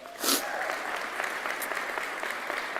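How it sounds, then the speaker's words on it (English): An audience at a sports product management commencement breaks into steady, sustained applause for an honoured guest, with a brief loud burst at the start and some voices in the crowd. "Give him a round of applause."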